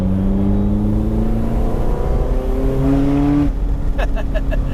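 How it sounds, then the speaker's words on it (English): A Ferrari engine drones steadily with shifting pitch, then as its straight-pipe exhaust valves open the note turns louder and harsher, with a few sharp pops near the end. "You can also hear the exact moment when the valves open"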